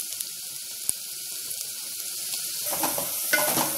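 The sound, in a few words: tempering (oggarane) spices sizzling in oil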